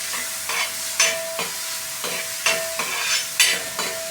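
Chutney mixture being stirred in a pan and browning toward golden, with a regular run of scraping strokes about twice a second over a low sizzle, close and clear, with no talking.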